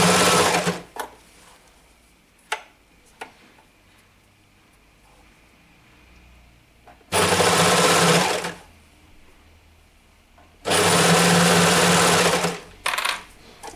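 A sewing machine stitches a stretched rib knit band onto a raglan shirt in two loud, sustained runs of close, whirring motor noise, separated by quieter pauses with small handling clicks and no voices.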